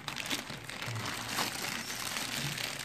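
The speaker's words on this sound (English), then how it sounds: "Let's get this thing out of the bag if we can." A brand-new Hitron CODA modem is pulled from its plastic bag, with soft crinkling of the bag throughout and no speech.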